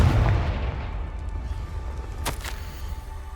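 A Confringo fire spell blasts in the Hogwarts Legacy video game: a loud low boom opens, then a roaring rumble fades under a couple of sharp crackling bursts.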